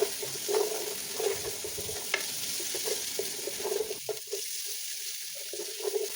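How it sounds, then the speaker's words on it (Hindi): Garlic, diced onion and lengthwise-cut green chillies stir-fry in a hot pan, with a bright sizzle and rhythmic stirring scrapes that cut off abruptly partway through, leaving a quieter hiss. "उसमें हम शामिल करेंगे एक छोटे साइज़ की चौकोर कटी हुई प्याज और 7 से 8 हरी मिर्चें लंबाई में कटी हुई और इन्हें भी स्टर फ्राई कर लेंगे"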